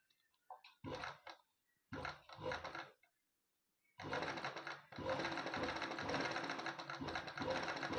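An embroidery sewing machine stitches straight stitches in short bursts, then runs steadily for several seconds, a close, busy mechanical whir.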